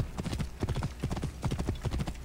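A horse gallops in the video game Assassin's Creed Origins, with rapid, rhythmic hoofbeats clopping steadily and fairly softly across the stretch.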